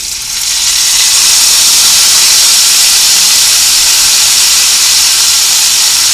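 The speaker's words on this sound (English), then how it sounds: "the grease is hot. I don't know if you can see it or not. I'm going to turn it down just a little bit. And we are going to sear it on both sides." Steak sears in hot grease in a pan, giving a loud, steady, unbroken hiss of sizzling fat that holds evenly for the whole six seconds, with no voices over it.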